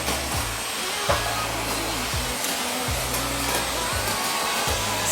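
A vacuum cleaner sucks up small paper confetti, running as a loud, steady drone with a repeating pulse of low motor cycles and brief rattles, up close and without talk.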